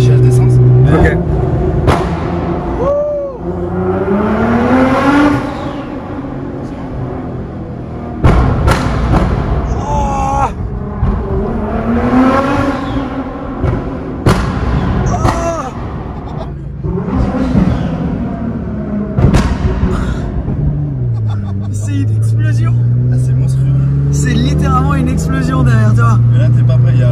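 A tuned 700 hp Nissan GT-R engine, running rich and misbehaving, revs repeatedly with rising and falling pitch sweeps, loud and close, with thumps and a steady drone near the end, under intermittent talk.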